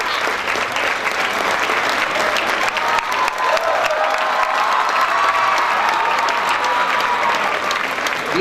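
A conference crowd at an ASME event in India applauds a welcomed guest. The clapping is loud and sustained, with scattered cheers and voices mixed into the dense, even wash of hands throughout.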